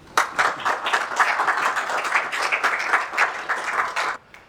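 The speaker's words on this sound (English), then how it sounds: "Over to Mr. Humayun Bashir with a big round of applause." Audience applause welcoming a speaker to a talk, a lively burst of many hands clapping close and loud with distinct individual claps, holding steady for about four seconds before cutting off abruptly.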